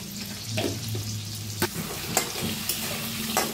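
Eggs frying with turmeric, red chilli powder and salt, stirred in a pan: a close, continuous sizzle broken by a few sharp scrapes of the spoon, no voices.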